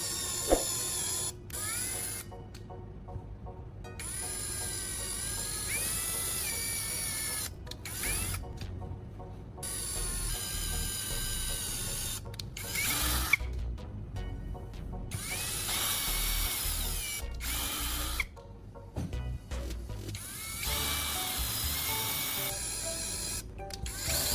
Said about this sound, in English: Then, I drill holes at each of the marked positions.